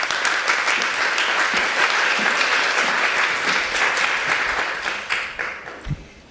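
An audience at a university keynote lecture applauds to welcome the speaker, a broad steady wash of clapping from many hands that holds for several seconds and then tapers off.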